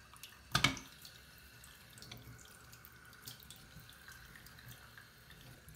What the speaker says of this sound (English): The water keeps flowing.